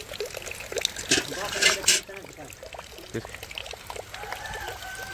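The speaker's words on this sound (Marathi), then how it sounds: "चला धुवून घेतो आता मस्तपैकी छकडा" Water pours and trickles loudly in short splashing bursts as a wooden bullock racing cart is washed outdoors, with someone talking in Marathi over it and a rooster in the background.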